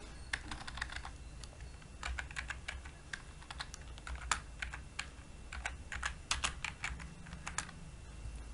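Steady typing on a computer keyboard, entering an item name into a Java grocery sales program: irregular bursts of close, crisp key clicks with short pauses, over a low hum and no voices.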